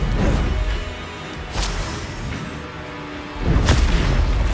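Deep booming blasts from the Bombarda spell in Hogwarts Legacy, with a heavy explosion at the start, a sharp crack partway through and another strong boom near the end, all close and loud over rumbling game noise.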